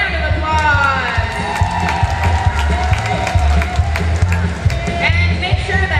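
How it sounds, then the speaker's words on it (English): Crowd at a roller derby rec league bout breaks into steady clapping and cheering with scattered whoops, while a loud announcer's voice talks over it throughout. "Give yourself a round of applause."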